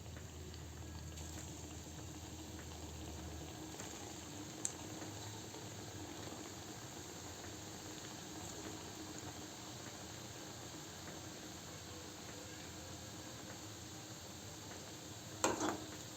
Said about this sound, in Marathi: आता तळायला सुरुवात करू।